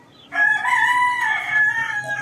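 A four-month-old cockerel crows once, close and loud, a sustained bright call lasting nearly two seconds with a wavering, slightly strained pitch.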